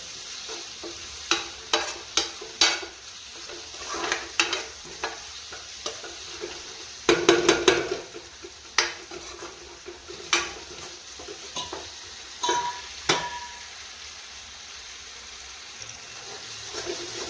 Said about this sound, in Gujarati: સતત હલાવતા રહેશું જેથી ચોટી ના જાય।